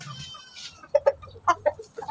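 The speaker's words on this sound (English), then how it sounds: "Ito yung Brahma chicken natin." Brahma chickens on a free-range farm cluck in short, close bursts, several quick calls in an irregular rhythm over a quiet background.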